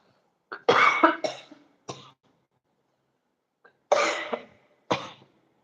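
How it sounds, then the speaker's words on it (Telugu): A mildly ill person coughs in two close clusters of sharp, throaty bursts separated by a pause, with no talking. "క్షమించాలి చిన్నగా దగ్గు వస్తుంది"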